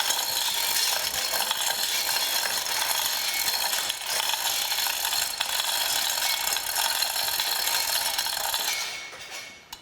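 A radial drill's universal table is hoisted by an eye bolt, producing a loud, continuous mechanical ratcheting clatter from the lifting gear that runs steadily and cuts off just before the end.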